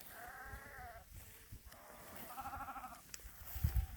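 Sheep and young lambs bleat in a paddock, several wavering calls from different animals spread over the moment, fairly faint and distant against a quiet outdoor background.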